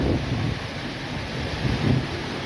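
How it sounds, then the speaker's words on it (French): Wind gusts and distant thunder from a stormy outdoor sky, a steady heavy rumble with wind buffeting the microphone and a slight swell near the end. "Et il y a de l'orage."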